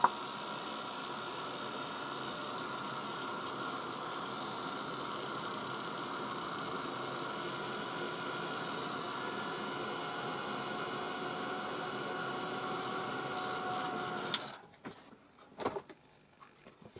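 Glitter on a craft shaker being dried with a blowing heat tool, a steady loud whooshing hum held for about fourteen seconds before cutting off abruptly, leaving a few faint handling sounds.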